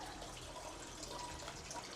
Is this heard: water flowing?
yes